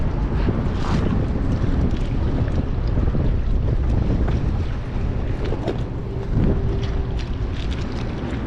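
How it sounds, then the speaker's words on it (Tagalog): Strong wind roars continuously over the open sea from a boat out fishing, a loud, steady gusting rush with buffeting on the microphone and no let-up. "Malakas ang hangin."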